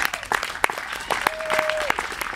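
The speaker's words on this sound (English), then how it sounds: "Another round of applause," Audience applause rolls through a small venue, with sharp individual claps standing out from the crowd and a sustained tone sounding briefly in the middle.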